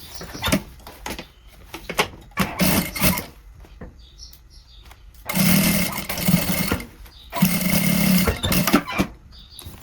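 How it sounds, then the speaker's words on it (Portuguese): Sewing machine stitching a straight seam runs in several loud, close bursts of rapid whirring, separated by pauses filled with clicks and handling noises of fabric and machine parts. "passa uma costura reta fechando tudo"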